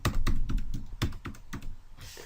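Fingers tap a computer keyboard in quick, uneven bursts of crisp clicks, close and clear, with no voices.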